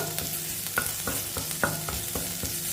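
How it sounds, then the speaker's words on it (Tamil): Ginger and curry leaves sizzling and frying in a hot pan, with a steady hiss broken by repeated scraping stirs of a spatula. "இப்போ ஒரு வதக்கு வதக்கிடுவோம்"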